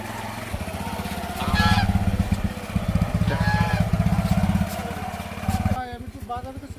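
A pet duck just over a year old, carried on a motorcycle, gives a few loud nasal honks over the steady low rumble of the running engine.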